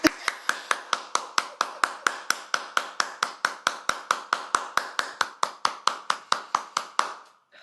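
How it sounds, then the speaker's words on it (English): A single pair of hands claps in a fast, steady, even rhythm, about two dozen sharp, close, loud claps in a row before stopping abruptly. "I'm gonna give you a round of applause."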